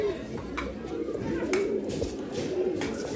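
Tara pigeons for sale in Bangalore, soft repeated coos and brief calls from nearby birds over a steady background murmur with faint voices.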